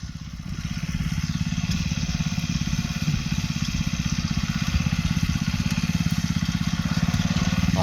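A small single-cylinder mini tractor engine chugs close by in fast, even pulses, running continuously and fairly loud while plowing a sugarcane field.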